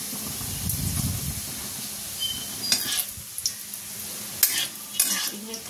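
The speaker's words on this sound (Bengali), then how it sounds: "এই যে কড়াই তেল গরম হয়ে গেছে, গোটা জিরে দিয়ে দিলাম, আর দেব দুটো শুকনো লঙ্কা" Whole cumin seeds and two dried red chillies hit hot oil in a kadai, giving a hissing sizzle punctuated by sharp crackles and scraping stirs, close and without talk.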